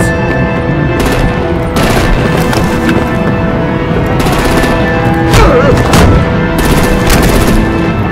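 Loud artillery and gunfire in Batman The Enemy Within: dense bursts of automatic shots and heavy booms repeat in waves throughout, close and unrelenting.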